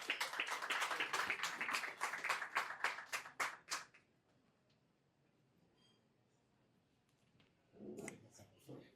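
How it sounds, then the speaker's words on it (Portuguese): An audience at a business talk on stage claps to welcome two speakers, a dense burst of applause that thins into scattered claps and fades out, followed by a quiet pause and a voice starting to talk. "Por favor, meus caros, salve de palmas"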